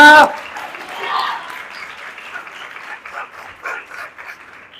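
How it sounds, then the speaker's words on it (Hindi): A church congregation at a Hindi/Urdu sermon applauds with fairly faint, diffuse clapping that carries on steadily after a brief voice at the very start. "खुदा के जलाल के लिए जोरदार तालियां।"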